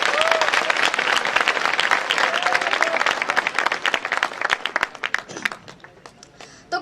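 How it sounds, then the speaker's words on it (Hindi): An audience claps in welcome during a talk, loud and dense at first, then thinning into scattered individual claps that trail off toward the end. "तो एक बार तालियां बजाकर स्वागत करें"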